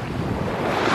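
A beach on Ibiza gives a short, steady wash of surf and waves mixed with wind rushing across the microphone, with no voices.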